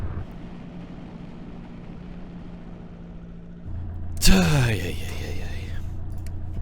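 A plane in the Kerbal Space Program video game touches down and brakes: a steady engine drone shifts pitch, then a sharp impact with a brief rising squeal rings out loudly before a lower, steadier rumble continues.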